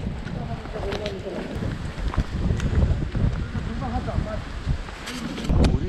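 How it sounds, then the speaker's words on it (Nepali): Strong gusty wind on a dusty hillside trail in Dhading, Nepal, roaring as steady broadband rumble and buffeting against the microphone, with a voice talking over it. "हुरी चलेर हावा हुरी"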